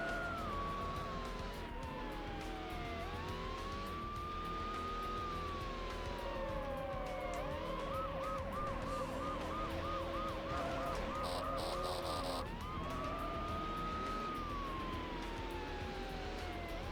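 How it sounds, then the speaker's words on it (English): Police sirens wail and sweep up and down continuously over a dense roar of car engines during a pursuit in the racing video game Need for Speed Hot Pursuit 2, loud and unbroken throughout. "I wish I could turn down the car sounds and turn up the music."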